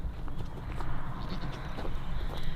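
Goats loose on a farm bleat in short, scattered calls at a moderate distance, with faint farmyard shuffling and a murmur of background activity between them.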